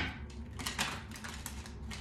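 Tarot cards are shuffled in quick, crisp riffling bursts, close and fairly quiet, a rapid flutter of stiff paper edges.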